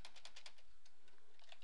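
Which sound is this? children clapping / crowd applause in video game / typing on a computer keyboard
typing on a computer keyboard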